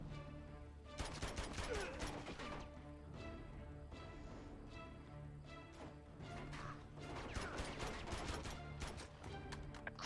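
Dense, continuous gunfire and crashing impacts in the Uncharted 2: Among Thieves action game, with rapid shots in a loud firefight that lasts throughout.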